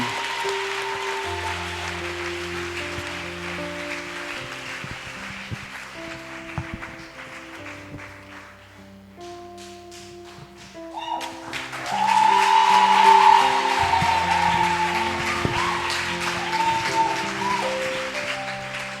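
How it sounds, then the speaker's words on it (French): Applause and cheering from the congregation at a church conference rise over sustained keyboard or organ music, swelling loudly in the second half and carrying on to the end. "Acclamez pour Jésus."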